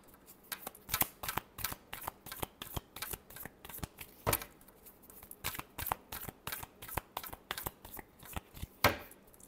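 Tarot cards being shuffled by hand, a rapid series of crisp riffling slaps and flicks in a steady rhythm, close up and alone without talk.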